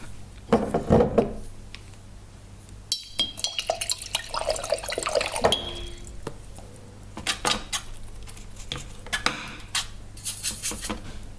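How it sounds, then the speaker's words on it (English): Paintbrush swished and tapped in a water jar while diluting yellow ochre watercolor paint, with trickling and dripping water, clinks against the glass and occasional brush scrapes, close and fairly quiet. "I'm diluting the paint with water quite a bit"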